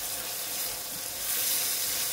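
Spices such as cumin and garam masala fry in oil for a beef tripe bhuna curry, giving a steady, close, hissing sizzle that swells slightly toward the end, with no voices.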